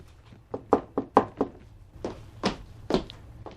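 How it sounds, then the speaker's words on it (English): A run of hollow knocks on a door for a radio drama sound effect: a quick cluster of five or six raps, then three slower, heavier thuds, close and clear with no talk. "Take the knock on the door and the footsteps coming in."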